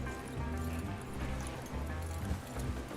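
Horse hooves clip-clopping in a video game, a steady, moderately faint rhythmic beat of several horses moving together.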